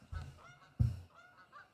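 Geese come in to land nearby and give two loud, close honks about half a second apart, then quieter calling trails off.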